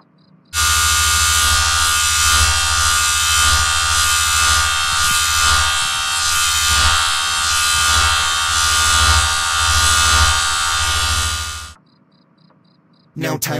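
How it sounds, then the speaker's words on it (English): Electric shaver buzzing steadily as it shaves hair off a man's head, a loud continuous drone running unbroken for about eleven seconds before cutting off abruptly. "I am going to shave off his hair."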